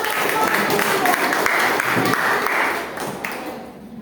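Classroom audience applauds a student group after their presentation, a steady, moderately loud patter of clapping that slowly fades, with some voices underneath.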